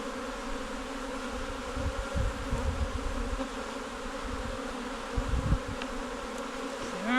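Honey bees swarm and buzz around an open beehive during a garden inspection, a steady dense drone that swells in places as bees pass close, with no talking.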